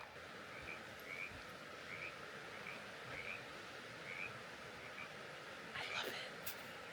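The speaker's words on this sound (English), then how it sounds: "You can hear frogs." Frogs call by the water in a forest at night, a series of short chirping croaks repeating at a steady pace over a constant hiss of background sound, with some rustling near the end.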